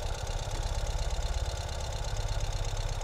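A 2021 Ural Gear Up motorcycle engine idles close up in neutral with a steady, lumpy pulsing rumble, running evenly throughout.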